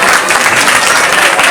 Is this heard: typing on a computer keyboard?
no